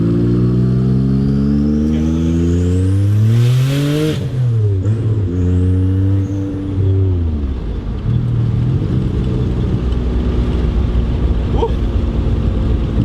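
A twin-turbo Porsche 930 accelerates hard through the gears, its engine note rising in pitch, then dropping at each shift before climbing again, loud and close from inside the cabin.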